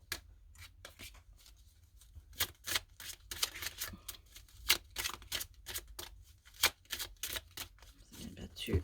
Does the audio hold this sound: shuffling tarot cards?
yes